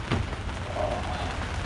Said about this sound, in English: it has been raining non-stop